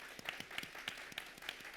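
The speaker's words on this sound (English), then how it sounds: "so let's give everybody a round of applause" An audience claps at the close of a design trade show talk, a short burst of steady scattered clapping heard alone at moderate distance.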